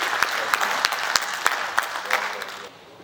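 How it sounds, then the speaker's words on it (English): Steady applause from a conference audience, with sharp individual claps standing out, fading near the end. "Another round of applause."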